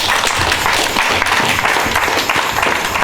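A church congregation applauds and cheers loudly in praise, a dense, steady wash of clapping hands and crowd voices filling the room without pause.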